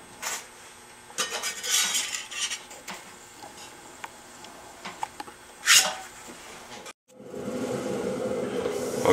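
A clay bowl being cut off a pottery wheel with a wire, then a wet scraper worked over the clay: soft scraping and dragging strokes in short bursts, a brief pause, then steady close rubbing.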